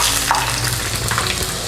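Boiled potatoes fry in hot oil with a loud, steady crackling sizzle, bubbling continuously without pause at close range.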